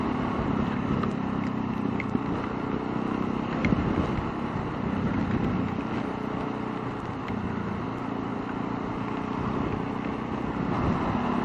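Constant roaring rush of wind and rain buffeting the microphone while riding a motorcycle at about 100 km/h, a dense unbroken noise with no voices.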